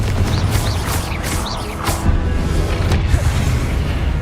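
Repeated Confringo spell blasts in Hogwarts Legacy, booming bursts with sharp whooshing sweeps over a constant loud rumble of combat, several impacts in quick succession, with no speech.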